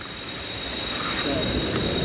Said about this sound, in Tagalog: Parang narinig ko na yung lagas-ras ng tubig ah.